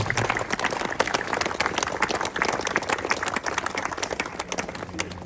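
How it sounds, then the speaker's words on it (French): An outdoor crowd at a memorial unveiling in Pontarlier applauds in honour of Resistance battalion commander Jean Bulle, the clapping dense, crisp and sustained, somewhat distant and spread out. "Je pense qu'on peut applaudir Jean Bull et ce qu'il représente"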